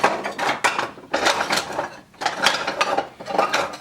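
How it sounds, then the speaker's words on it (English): A machine grinds paua shell in a factory, producing loud, harsh abrasive bursts in four uneven surges with brief dips between, close and with no talk. "So we grind that shell off there."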